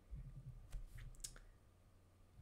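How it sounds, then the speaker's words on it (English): Keys clatter in a quick typing burst on a Ryzo custom keyboard, a short run of soft, light clicks close by, sparse and fading after about a second and a half. "Let us do a quick typing test, shall we?"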